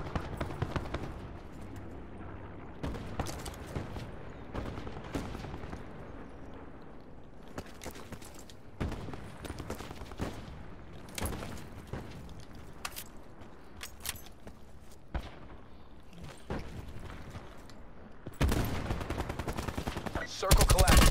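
Bursts of automatic and single gunfire in a battle royale video game crackle in repeated volleys over about twenty seconds, with quieter gaps between exchanges and a loud flurry near the end.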